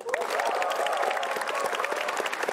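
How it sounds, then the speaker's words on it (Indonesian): Audience applause at an Indonesian stand-up comedy show, a dense, steady burst of clapping from a crowd with a voice faintly speaking over it. "Arif Didu, tepuk tangan sekali lagi."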